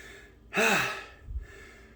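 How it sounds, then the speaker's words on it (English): One heavy, audible exhale after a workout on a home stationary bike, a loud sighing breath lasting about half a second, then a faint low thump and quiet. "I'm already breathing hard because I attempted this video before."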